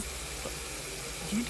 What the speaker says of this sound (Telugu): ఏంటి ట్యాప్ దానంతట అదే ఓపెన్ అయింది?